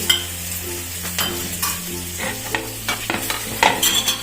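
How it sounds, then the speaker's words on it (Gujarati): Ginger, garlic and green chili paste sizzling in hot oil with asafoetida in a kadai, a loud close crackle with repeated spoon scrapes and clinks over a steady low hum, no speech. "પછી આદુ મરચાંની પેસ્ટ છે, લસણ આદુ મરચાં લસણની પેસ્ટ છે તે નાખી દઈશું વઘારમાં આપણે"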